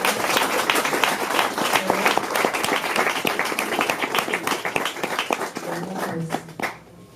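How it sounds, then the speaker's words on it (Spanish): An audience at a book presentation applauds the author with brisk, dense clapping that swells, then thins and dies away near the end, a voice briefly heard as it fades. "Yo creo que se merece un aplauso"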